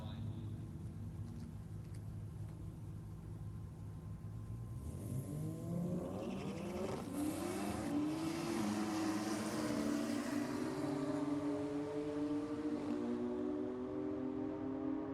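A Toyota Supra at a JDM night drag race launches and revs hard, its engine climbing through rising tones from a distance before holding a loud, sustained roar over crowd and commentary noise.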